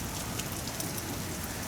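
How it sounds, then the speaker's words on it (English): Heavy rain pouring steadily in California, a dense, even hiss of drops striking surfaces, heard briefly and alone with no voices. "Damn, it's raining hard now."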